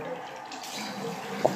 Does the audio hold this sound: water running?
yes